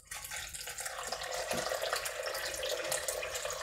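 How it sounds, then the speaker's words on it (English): Water runs into a pot with oats, peanut and banana for porridge, a close, steady trickling rush that continues evenly after a brief start. "I'm gonna add a little water"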